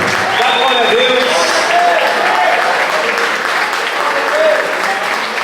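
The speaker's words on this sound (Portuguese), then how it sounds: "Se você quer levantar um aplauso, dá glória a Deus." Church congregation applauding in praise during a Portuguese-language sermon, a loud, steady wash of clapping that holds throughout, with a voice audible over it.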